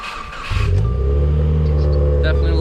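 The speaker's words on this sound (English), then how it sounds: "Let's get a little cold start right away in the morning." Car engine catching on a cold morning start, bursting into a loud rev then settling into a steady, rumbling idle close by.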